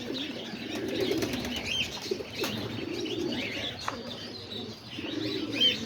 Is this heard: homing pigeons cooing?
yes